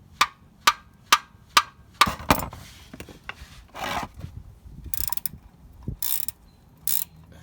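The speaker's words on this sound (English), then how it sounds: "Using a socket with a long extension, you can finish loosening the oil plug until it's all the way out." A socket wrench with a long extension loosens the oil drain plug on a 2010 Ford Edge, with a steady run of crisp ratchet clicks, then irregular metallic turning, rubbing and clunks close by, with no voices.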